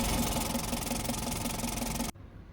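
A diesel engine idles with a steady, rapid knocking pulse and broad mechanical noise, bubbles coming through the injectors, then cuts off abruptly near the end.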